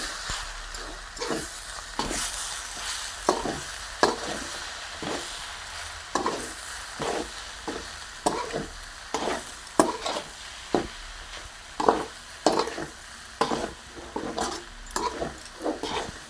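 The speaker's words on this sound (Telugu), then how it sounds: "ఇప్పుడు ఒక రవ్వ వేసుకుంటున్నాను. అంతా కలుపుకోవాలి." A spoon scrapes and stirs semolina into stingray fish pittu in a pan, with steady rhythmic strokes over a soft background sizzle, close and moderately quiet, with no talk.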